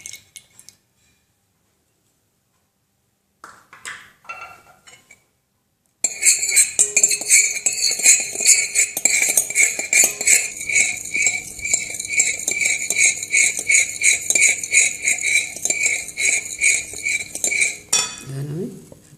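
A spoon beats egg yolks in a bowl for a blender vanilla sponge cake, making fast, steady clinks for about twelve seconds after a few scattered taps, close and fairly loud.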